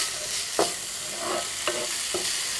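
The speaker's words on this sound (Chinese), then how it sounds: "把蔬菜炒至断生，炒出香味儿。" Diced vegetables, green pepper and ham stir-fried in a pan with chopped scallion, a steady sizzle broken by several sharp scraping stirs of the spatula at a close, even level, no voices.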